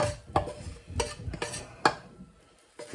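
A utensil scrapes and knocks against a pan as onions and garlic are pushed into a slow cooker, a handful of close metallic scrapes and clinks in an irregular rhythm.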